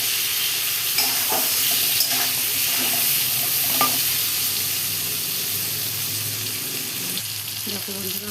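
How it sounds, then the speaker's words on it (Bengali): Potatoes fry in a pan with salt and turmeric, a close, steady sizzle and crackle running throughout, with occasional stirring clinks and no voices. "এবার আলুগুলোকে সুন্দর করে ভেজে নিচ্ছি"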